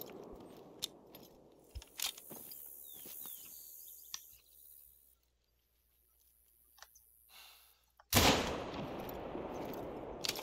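A single loud rifle shot in Hunter: Call of the Wild bursts out after a stretch of quiet outdoor ambience with faint bird calls and scattered small clicks, its report ringing out and fading.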